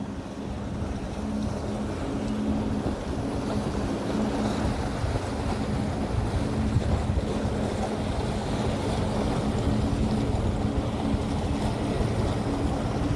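Powerboat running at full throttle out of Haulover Inlet on the Fourth of July, a steady distant engine drone mixed with wind and rushing water, moderately faint and continuous with no talk.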